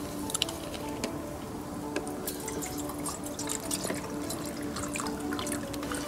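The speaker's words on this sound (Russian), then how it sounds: "Наливаем воды в кружку." Water poured into a mug outdoors, a soft continuous trickle with scattered drips and splashes, fairly faint and close, with no speech.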